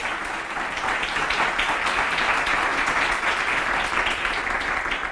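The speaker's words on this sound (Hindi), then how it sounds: "Once again a huge round of applause." Studio audience applauds steadily on a Pakistani television variety show after a singing performance, a dense, loud wash of clapping sustained evenly throughout with no voices over it.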